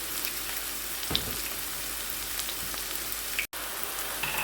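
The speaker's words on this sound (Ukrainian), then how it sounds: "І тепер, коли ми бачимо, що в нас вже цибуля підсмажилася трішечки, стала вже така жовтувата" Onion and carrot sizzle in a frying pan, a steady, even hiss of frying with faint crackles throughout and a momentary break near the end.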